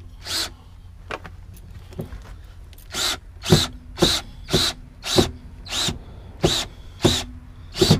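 A power drill drives a screw into a ball bracket on a cargo door, heard as a series of about ten short, sharp bursts in steady rhythm, close and fairly loud, with no talking.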